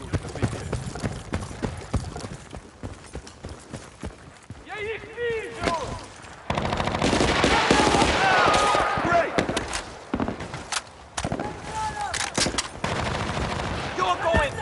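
Gunfire from soldiers in the Battlefield Bad Company video game crackles in rapid bursts and scattered shots amid a dense battle mix, while game voices shout over the noise, loud and close for most of the stretch.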